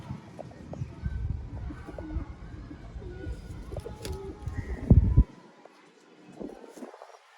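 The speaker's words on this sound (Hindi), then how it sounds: "आउट क्लास दोस्तों सियालकोटी उनासियों वाले कबूतर" Sialkoti breed pigeons cooing softly amid steady low rumbling background noise, with a louder thump near the end followed by quieter sounds.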